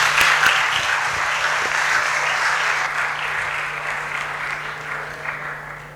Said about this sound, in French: On peut applaudir pour lui, s'il vous plaît.